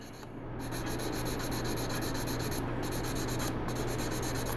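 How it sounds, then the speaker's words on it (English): A 1/24-scale plastic model kit part is sanded flat, with a steady, close, continuous rasping rub over a constant background hum. "You want to be careful you don't sand a round. You want to make sure you stay flat."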